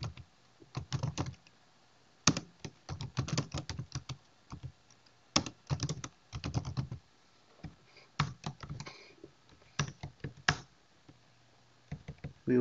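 Bursts of computer keyboard typing while entering code, close and crisp, coming in irregular clusters of rapid keystrokes separated by short pauses.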